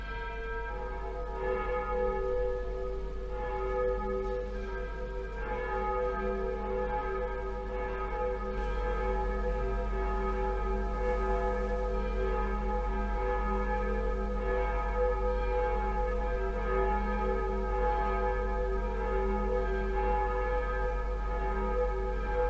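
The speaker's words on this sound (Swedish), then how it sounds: "Låt oss nu lyssna till våra kyrkklockor som ringer in till vår gudstjänst." Church bells of Tystberga church in Sweden ring continuously before a Sunday service, a steady layered peal with repeated overlapping strikes, moderately distant and alone, over a low constant hum.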